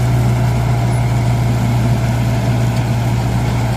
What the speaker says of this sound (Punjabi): ਤੋਰਾ ਦੇਖੋ ਟਰੈਕਟਰ ਦਾ